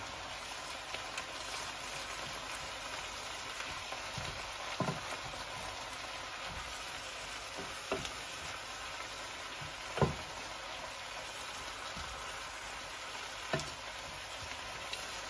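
Onions for a cheesy onion topping sizzle steadily as they fry and caramelize in a pan, a continuous hiss broken by a few soft clinks and stirring knocks, with no talking.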